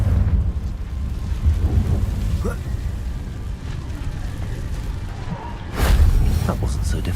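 A Confringo spell explosion goes off in the video game Hogwarts Legacy as a loud rumbling boom near the end, set over a dense, noisy game soundscape with a voice briefly heard.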